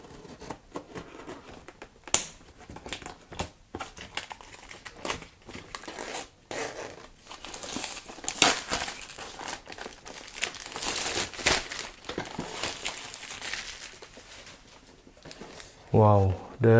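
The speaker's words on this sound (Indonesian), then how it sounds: "ini masih ada plastiknya. Saya akan buka terlebih dahulu ya" Plastic wrapping is torn and crinkled off a Flydigi Scorpion D1 one-hand keyboard, giving irregular crackling and rustling bursts up close, with someone talking in Indonesian over much of it.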